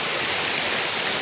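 River water rushes in a steady, dense, hissing wash, close and even throughout the brief moment with no voices.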